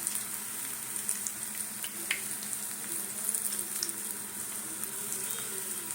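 Pakoras frying in oil that has run a little too hot, a steady dense sizzle with occasional crackles and pops, close and continuous with no talking.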